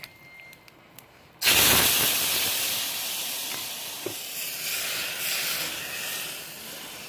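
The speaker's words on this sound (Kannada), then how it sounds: "ಕುದಿಯುವಂಥ ಸಾರಿಗೆ ಒಗ್ಗರಣೆ ಹಾಕಿದ್ದೀನಿ." Hot ghee tempering poured into a boiling spinach bajji saaru bursts into a loud, sudden hiss that then settles into a steady sizzling rush, close and alone without talk.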